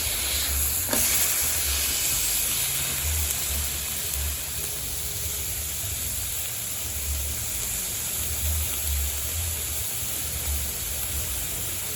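A New York strip steak sizzles steadily on an outdoor Halo griddle in its own grease, a continuous hiss with low rumbling wind, fairly loud and unbroken for the whole stretch.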